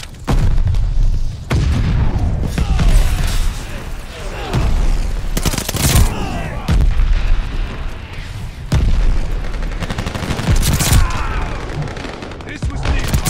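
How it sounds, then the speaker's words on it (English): A mortar barrage in the video game Call of Duty: Vanguard, with heavy booms and rapid bursts of gunfire crashing in repeatedly, loud and dense, mixed with voices speaking throughout. "Allies calling a mortar barrage."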